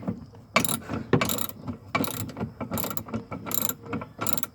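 A ratchet wrench cranks loose the seat bolts on a Polaris RZR side-by-side, with several bursts of rapid, close clicking separated by short pauses and no talk.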